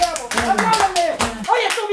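A few sharp claps ring out at a school patriotic parade, spaced irregularly under excited talking voices close by.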